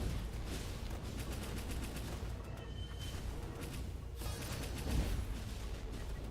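Repeated explosions and rapid gunfire-like bursts crackle through dense video game combat in Ender Magnolia: Bloom in the Mist as enemies blow up, a busy, layered barrage at moderate level.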